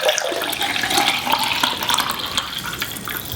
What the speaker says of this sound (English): So we'll pour this into a mug.